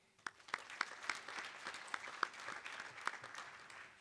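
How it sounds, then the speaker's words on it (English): An audience applauds panel speakers at a workshop, many hands clapping in a steady moderate wash with a few sharper, closer claps standing out. "So let's give him a round of applause as well"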